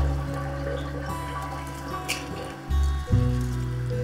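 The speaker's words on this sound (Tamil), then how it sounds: "கொதித்த உடனே நம்ம வந்து அரிசியை சேர்த்துக்கலாம்." Soaked jeeraga samba rice tipped into a pot of boiling water for chicken 65 biryani, giving a brief splashy pour and bubbling over a steady low rumble of the boil, close up with no voices.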